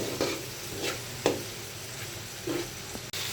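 Spice masala for a folly fish bhuna curry fries in a pan over raised heat, a steady close sizzle broken by several sharp stirring scrapes at irregular intervals.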